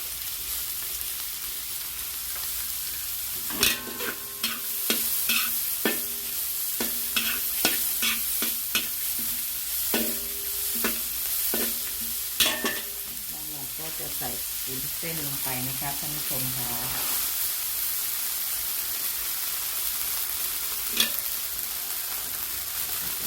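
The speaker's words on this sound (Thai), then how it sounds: "จากนั้นเราก็จะใส่ แครอทลงไปค่ะผัดแครอทหน่อยให้สุก" Carrots stir-fry in a hot pan for glass noodles with egg and minced pork, a steady sizzle broken by repeated scraping clatters of the spatula, loud and close.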